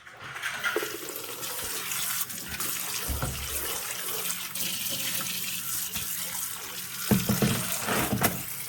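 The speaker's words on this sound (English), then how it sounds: "we'll just keep washing them till we got them about as good as we can get them" Bare root strawberry plants are rinsed under a running tap, a steady splashing stream of water close by with occasional bumps and handling noises, no voices.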